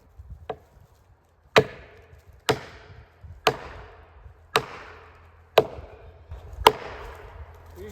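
Axe chopping into a standing tree trunk while felling a tree outdoors, six sharp woody thwacks at slightly uneven intervals about a second apart, with a faint tap before them and light rustling between.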